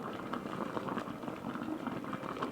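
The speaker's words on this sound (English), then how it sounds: "just apply that steam on there" A steady, bubbling hiss of steam on a hat brim runs throughout, close and moderately loud, with no talking.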